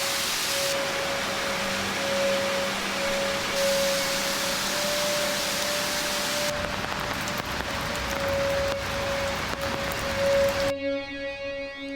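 Heavy monsoon rain pours in a dense, continuous hiss, steady and unbroken, with a faint tone running underneath.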